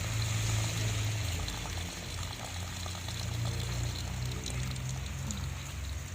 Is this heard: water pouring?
yes